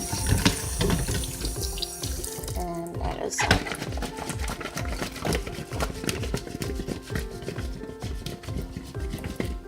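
Potatoes are rinsed under running tap water in a sink, with splashing water, knocks and clatter of a pot or bowl, while a person talks over the activity.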